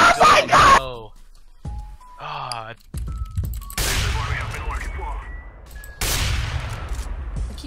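Gunfire in the video game CS:GO comes in sharp bursts mixed with game effects, while players talk and exclaim over the action.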